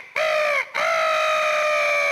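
A voice imitating a rooster's crow for Footix, the blue-bodied rooster mascot of the 1998 World Cup: a loud, sustained nasal cry broken by a brief gap, then one long held note trailing to the end.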